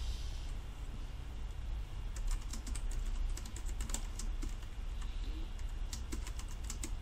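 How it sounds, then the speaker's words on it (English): Fingers type quickly on a computer keyboard, a close run of light, irregular clicking keystrokes that continues the whole time with no voices. "一路打字嘅時候咧就我唔望嗰個 keyboard"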